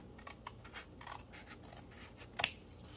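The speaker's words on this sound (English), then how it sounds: "The flap is just a little bit over, so I'm just gonna trim it down." Scissors snipping a thin sliver off a paper envelope flap, a few soft close cuts ending in one sharp louder snip, with no talking.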